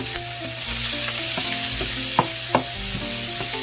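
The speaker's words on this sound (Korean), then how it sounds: "오징어에 배이도록 잘 볶아줘요" Squid stir-frying in scallion oil, a loud, constant sizzle with low burner hum beneath and a few sharp scrapes of a utensil stirring the pan, close up with no speech.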